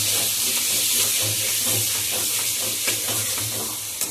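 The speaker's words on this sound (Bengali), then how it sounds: "আমার কষানো প্রায় শেষের দিকে" Meat being sautéed and stirred in oil in a pressure cooker in a home kitchen, a steady close sizzle and hiss with soft scraping stirs throughout.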